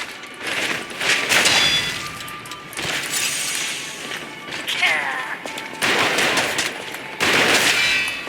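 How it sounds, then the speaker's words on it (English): Gunfire aimed at the player in the Lies of P video game, heard as bursts of rapid shots and crashes in several loud clusters across the stretch, mixed with game effects. "Someone else is shooting me."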